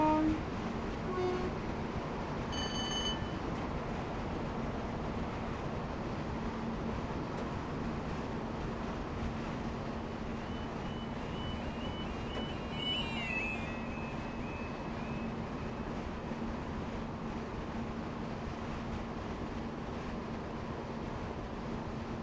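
AP317 electric multiple unit train running in Train Simulator 2021: a steady, broadband rumble with a low motor hum, continuous and even for the whole stretch, with a brief high whine partway through and no talk.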